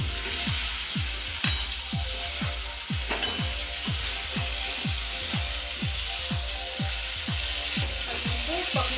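Stuffed masala brinjals fry in a kadai with a constant bright sizzle, while a regular mechanical ticking pulses underneath throughout, close and moderately loud, with no talking.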